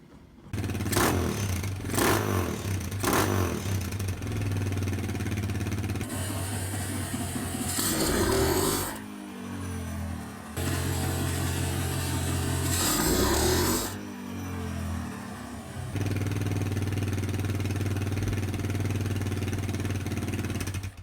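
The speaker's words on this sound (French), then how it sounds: "Je vais démarrer et puis on va voir si ça tourne." A Honda XLR125R motorcycle engine with a Keihin PZ30B carburetor being started and left running, a steady loud idle with a few revs rising and falling, close by and with no talk.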